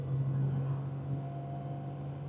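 A 1973 Datsun 240Z inline-six with a 4-speed manual cruises at about 2,500 RPM and 55 mph, a steady low engine hum with a constant droning tone and road noise inside the car.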